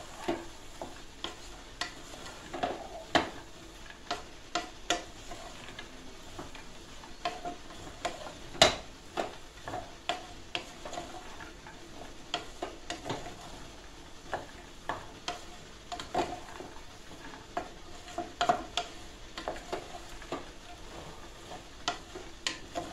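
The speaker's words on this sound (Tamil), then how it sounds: "இது எல்லாத்தையுமே சேர்த்து நல்லா ஒரு பரட்டிடுங்க" White biryani ingredients with soya chunks sizzle in a pan and are stirred repeatedly with a utensil, giving sharp scraping clicks over a faint, steady frying hiss at close range, with no talking.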